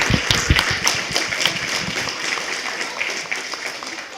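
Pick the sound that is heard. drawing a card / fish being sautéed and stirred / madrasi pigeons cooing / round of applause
round of applause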